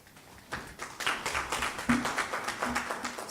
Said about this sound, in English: So a big applause to our presenters